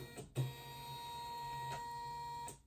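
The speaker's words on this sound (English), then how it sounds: "the carriage unit is going to come in, get into position" A Janome MC 9850 embroidery machine's carriage unit drives into position with a steady mechanical motor whir lasting about two seconds, opening with a short clunk and ending in a faint click, close by with no talk.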